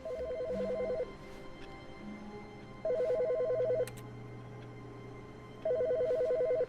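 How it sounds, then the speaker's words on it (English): An office phone rings in the video game The Stanley Parable, three evenly spaced electronic trilling bursts over a faint background hum, clear and close, with no talking. "Someone's phone's ringing."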